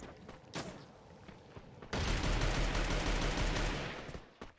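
Gunfire in the mobile battle royale game Free Fire, a few faint shots early, then a loud sustained burst of rapid automatic fire lasting about two seconds before tapering off.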